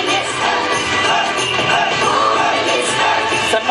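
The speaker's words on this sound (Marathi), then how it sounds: "जोरदार टाळ्या या दोघांसाठी आपण वाजवूया." Audience at a Home Minister contest held for a birthday celebration in Belati, clapping and cheering loudly and steadily throughout, a dense continuous wash of crowd noise.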